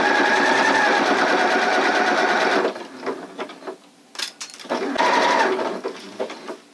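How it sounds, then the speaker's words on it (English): A Janome sewing machine runs a stretch stitch on fabric for a circle skirt waistband, a loud, rapid mechanical whir for a few seconds, then stopping and starting again in a shorter burst. "So let's go ahead and sew."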